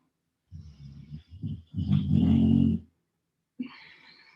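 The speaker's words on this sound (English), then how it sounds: "if you hear my dog snoring in the background" A dog snores nearby in a quiet room, a few rough, rumbling breaths in uneven bursts, one long drawn-out snore, then a short snuffle after a pause.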